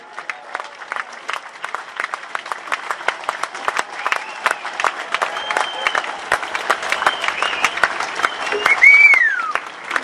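A large crowd at a BSW political rally applauds Sahra Wagenknecht's arrival with steady, dense clapping that swells toward the end, a few cheers mixed in.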